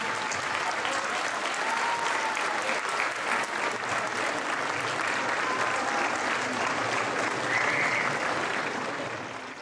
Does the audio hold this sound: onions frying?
no